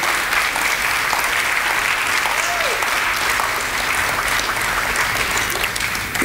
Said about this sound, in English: Get him another round of applause